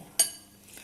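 A spoon strikes a bowl once while scooping batter for vada pav, giving a single short, bright clink. A faint, quiet room tone follows the clink.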